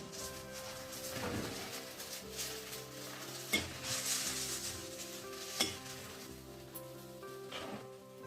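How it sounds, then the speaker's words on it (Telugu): A ladle stirs and scrapes bitter gourd pieces dusted with turmeric in a frying pan, with a steady soft sizzle underneath and a few sharp metallic clinks against the pan. "పసుపు వేసి మళ్ళీ కాకరకాయ ముక్కలు గరిటతో ఇలా తిప్పుకుంటున్నాను."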